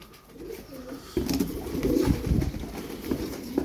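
Tumbler pigeons coo softly inside a low coop, several low murmuring coos close by with faint rustling between them.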